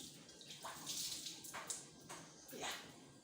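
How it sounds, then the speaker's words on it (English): Water splashes in short bursts onto a soaped kitchen surface during cleaning, a few separate pours close by with brief gaps between them. "I put soap on my thing and I pour water on it."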